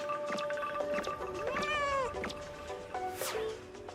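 A cat character in the video game Delivery Cat meows repeatedly in a series of rising and falling cries, loud and clear, with a person's voice reacting underneath.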